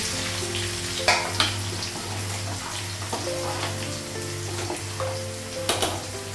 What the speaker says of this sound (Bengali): আলু লাগালাম শুকনো লঙ্কা লাগালাম আর পাঁচ একটু মশলা দিয়ে লাগে